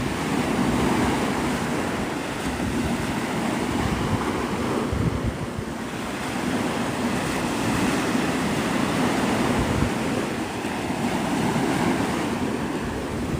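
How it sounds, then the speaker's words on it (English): Surf rolls in continuously at Pensacola beach, a broad steady wash of breaking waves mixed with wind buffeting the microphone, with no talk. "I'm back at the beach"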